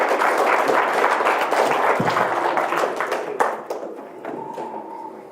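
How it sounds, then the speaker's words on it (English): Audience applause at a presentation on AI in games, dense clapping that thins out after about three seconds into a few scattered claps and fades away. "Give me my applause."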